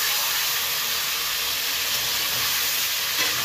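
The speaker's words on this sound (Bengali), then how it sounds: "দু 1 মিনিট তেলের মধ্যে মাংসটা একটু আমি নাড়াচাড়া করে নেব।" Mutton sizzling in hot oil as it is stirred in a pan, a dense, steady hiss holding close and loud throughout with no talking.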